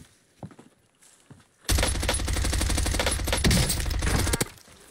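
Sustained automatic gunfire in a competitive team shooter match, a loud dense burst lasting several seconds after a few quiet footsteps, close and harsh with crackling impacts.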